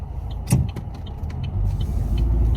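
A car rolls along slowly at about ten miles per hour, heard from inside as a steady low rumble with a few sharp clicks and knocks over it.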